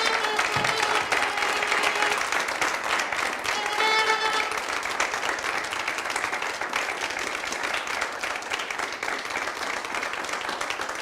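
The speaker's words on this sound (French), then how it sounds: "Je vais vous demander toutes et tous de vous mettre debout et de vous applaudir très très fort" An audience at a televised business competition event stands and applauds very loudly. Steady, dense clapping from a large crowd continues unbroken, with occasional faint voices and tones beneath it.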